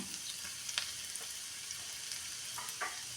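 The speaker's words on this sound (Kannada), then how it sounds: "ಇವಾಗ ಸ್ವಲ್ಪ ನಾವು ಚಿಲ್ಲಿ ಫ್ಲೇಕ್ಸ್ ಹಾಕೋಣ" Chilli flakes frying with chopped garlic in a small pan of hot oil for an egg-gobi dish, a quiet continuous sizzle with a few faint spoon taps and stirs.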